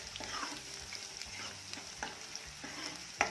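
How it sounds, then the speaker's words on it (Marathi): Chopped garlic and onion frying in a pan for dhaba-style dal fry, a soft steady sizzle with occasional light scrapes and taps of a stirring spoon, quiet and close; no talking. "लसूण आणि कांदा छान फ्राय होऊया"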